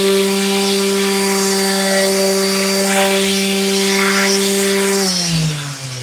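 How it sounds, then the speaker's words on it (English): Power sander working the edge of a cabinet door, a loud steady motor whine with buzzing friction that drops in pitch as it winds down at the end. "bring the sander, this edge, up about half inch so it takes in, fills in this area better"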